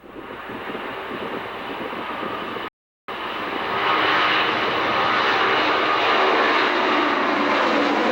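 A McDonnell Douglas DC-10-30 rotating on takeoff at Manchester, England: a loud, continuous jet roar with wind buffeting that swells and broadens after a brief cut, close and steady.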